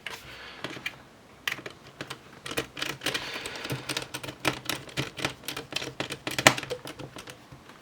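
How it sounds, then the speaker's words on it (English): Plastic snaps on a Lenovo ThinkPad T460s laptop click into place as it is pressed together, a rapid irregular series of sharp, close taps and clicks, with one louder snap near the end. "we're just going to press, make sure the little plastic snaps engage."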